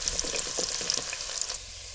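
Chopped onion fries in a ladleful of hot oil, a busy sizzle with small crackles and pops, stirred by a utensil that adds scraping taps, no talking.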